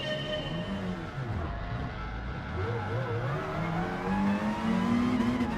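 Several Group 4 race car engines in Gran Turismo rev and accelerate together at a race start at Monza, pitches rising and overlapping in a steady roar, with a voice talking over them.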